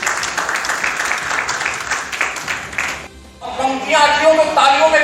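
An audience at a Hindi comic poetry gathering breaks into dense, sustained applause for about three seconds. A speaker's voice then comes in over the fading crowd.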